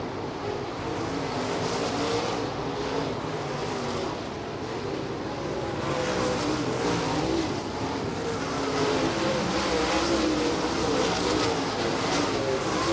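Late model race cars roar around the dirt track at Thunderbird Raceway during a feature race, a dense continuous engine drone that swells and fades slightly as the pack passes, heard from a distance with no talk.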